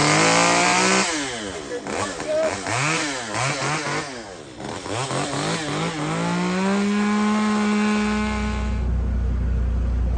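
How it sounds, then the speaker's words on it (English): A chainsaw, fired up to cut a roof opening for an additional RV air-conditioning unit, runs loud and close. It revs up and down repeatedly, then settles into a steady high drone before cutting off. "Get your chainsaw, fire it up."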